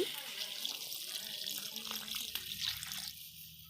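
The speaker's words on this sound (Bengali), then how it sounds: "এখন দিয়ে দিব পানি।" Water pours into a cooking pot of frying chillies, ginger-garlic paste and potatoes while egg curry and khichuri are made, giving a steady, moderately loud splashing rush that runs continuously and thins out near the end.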